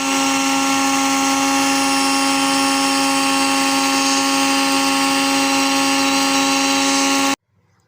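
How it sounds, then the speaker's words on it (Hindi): A grinder pulverises broken Oreo biscuits into powder, a loud steady whirring motor drone with a strong tonal hum running for about seven seconds before cutting off abruptly. "अब हम इनको ग्राइंड कर लेंगे।"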